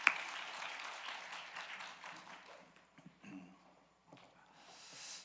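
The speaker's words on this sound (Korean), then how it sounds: "큰 박수 부탁드립니다" Congregation at a Wednesday prayer meeting in a church applauding, a fairly faint wash of clapping that thins out and fades after a few seconds, with a little stirring afterward.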